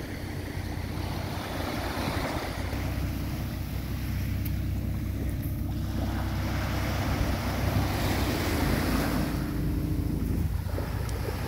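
Sea waves wash and surge steadily on the shore at Cabo de Gata in Andalusia as a boat is launched into the water, with wind buffeting the microphone throughout.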